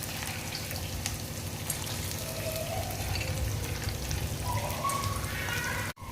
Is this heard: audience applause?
no